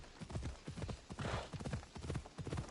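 Horse hooves clip-clop steadily and rhythmically in Assassin's Creed Odyssey as a mount named Copernicus trots along, the clear repeated footfalls carrying throughout with no talk over them.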